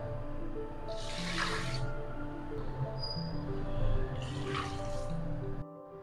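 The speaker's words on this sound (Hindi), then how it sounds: "साथ में डालेंगे 2 कप पानी" Water pours into a pot of lentils with rajma and chana dal, heard as two brief splashing bursts close by over a quiet background with soft music.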